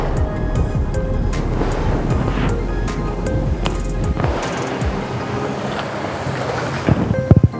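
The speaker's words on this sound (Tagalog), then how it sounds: "Ang lakas ng hangin talaga, alon, malaki." Strong wind buffets the microphone in a loud, continuous roar over big ocean waves surging and crashing nearby along the shore at Muntinlupa, with occasional thumps of handling noise.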